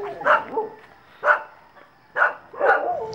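Dogs bark four times at a moderate distance, with short pauses between the barks and no other sounds around them.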